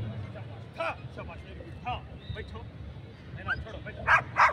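A police sniffer dog named Diana, performing at an Independence Day police grounds show in Kadapa, gives a few short yips and barks amid crowd chatter and a public-address voice, with louder bursts near the end.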